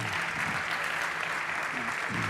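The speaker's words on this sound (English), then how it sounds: "Big applause." An audience at a startup competition claps steadily, a dense even wash of applause that holds for a couple of seconds without a break.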